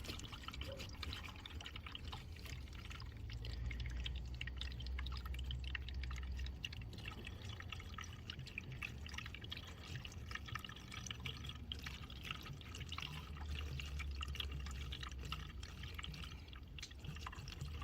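Antifreeze leaking from a 2006 Lexus RX400h hybrid, a steady watery trickle and drip running continuously and fairly faint throughout, with no talk over it.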